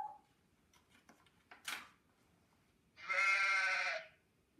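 A human voice imitating a sheep bleating, a single drawn-out nasal "baa" about a second long, close and clear after a few faint clicks and rustles, during a preschool storytime reading.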